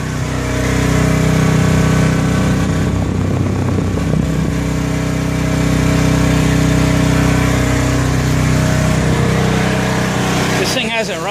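A Honda RV generator engine, unused for over a year, runs steadily and loudly at close range with a constant droning hum and harmonic buzz throughout, with speech mixed in over it.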